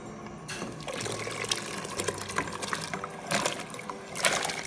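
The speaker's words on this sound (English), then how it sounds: "our water is boiling, so we are going to go ahead and pour our watermelon rinds in there" Watermelon rinds tumble into a pot of boiling water, giving a splashy, gurgling pour with bubbling and a few louder plops, fairly quiet and close.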